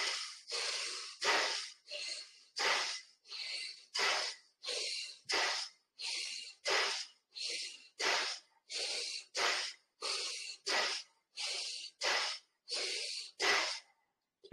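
Deep yoga breathing, steady audible inhales and exhales through the nose and mouth, close and airy, repeating in an even rhythm of about twenty breaths with short gaps between.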